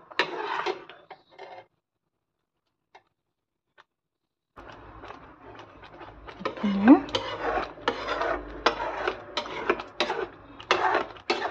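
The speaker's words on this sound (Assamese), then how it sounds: "ধুনীয়াকৈ লৰাই থাকিব লাগিব এইখিনি" Mango jelly stirred in a pot makes clinking, scraping strokes of a spoon against the metal. They come in an irregular run, pause into near silence, then return denser and louder.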